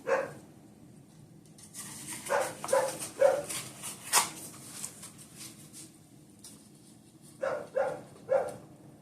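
A dog barks in short bursts: one near yelp, then a run of sharp barks, a pause, and another cluster of three or four, loud and close in a quiet room with low background hum.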